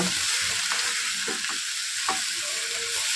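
Shredded cabbage with grated ginger being stirred and fried in a pan, a steady hiss of sizzling broken by several spoon scrapes and soft knocks, close and moderately quiet.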